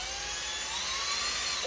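A high, steady whine of a small drill bit spinning up close, drilling a small hole in a 1966 Mustang, with a faint rising tone throughout the brief burst.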